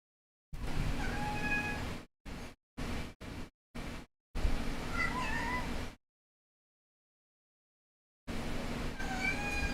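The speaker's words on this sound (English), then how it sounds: "the cat's doing that weird thing she does" A cat meows repeatedly indoors, several close, drawn-out calls with a few short ones in between, separated by silent gaps.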